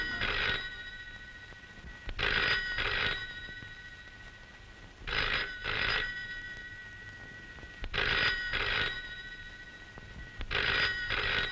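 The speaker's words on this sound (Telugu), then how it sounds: "ఆ ఫోన్ ఎవరో చూడమ్మా." An indoor telephone rings in four evenly spaced double bursts of bright trilling bells, moderately loud, with quiet gaps between rings and no talk.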